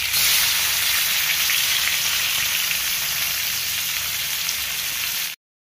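A fish head frying in hot oil crackles with a loud, dense, steady sizzle that fills the whole stretch without any pause, then cuts off abruptly.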